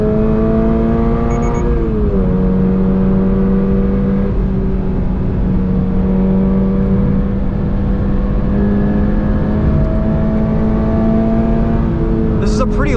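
A 2022 Toyota GR86 Premium circles the long track at Monticello, its engine droning steadily with pitch rising and dropping through gear changes, loud and close from inside the cabin, with a driver talking over it.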